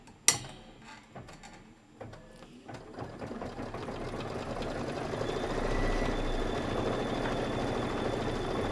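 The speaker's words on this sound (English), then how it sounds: "Now I'm into the quilting stitches. So we're just going to go ahead and let it stitch." A sewing machine works quilting stitches on a table topper, starting after a few sharp clicks and then settling into a continuous, close rhythmic whir that holds steady to the end.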